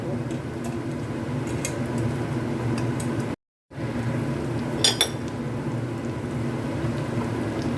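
Onion and carrot fried with pork cracklings, stirred in a pan: scattered spatula clinks and scrapes, sharpest near the middle, over a steady low kitchen hum, with one brief moment of silence.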